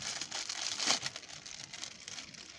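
A poorly wrapped gift package is unwrapped, its paper crinkling and rustling up close in a quiet room, with a louder crackle near the start and softer handling afterward, no voices.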